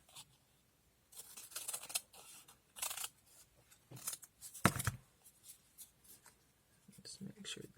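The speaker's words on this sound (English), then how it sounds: "And I'm going to cut it out." Scissors snipping through paper to cut out feather shapes for feather pens, a few short crisp bursts of cutting close by with brief pauses, and soft spoken remarks in between.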